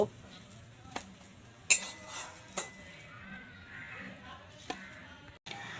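A spatula clinks and scrapes against a pan while fried eggs are folded and lifted for an egg burger, with a few sharp metallic taps over a faint steady background.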